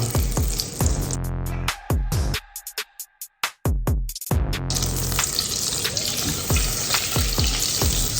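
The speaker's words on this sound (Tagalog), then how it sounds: "We can now start cooking our olive oil." Olive oil sizzling and crackling in a pan while cooking for a crab and mushroom pasta, loud continuous frying with a brief drop in the middle, no talk.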